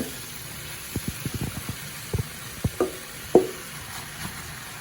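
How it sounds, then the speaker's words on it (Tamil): Chicken fried rice being stirred in a pan over low heat, with a string of short close scrapes and knocks of a spoon against the pan under a faint steady sizzle. "இதை வடிவாக எல்லாம் சேர்கிற மாதிரி கிளறணும்"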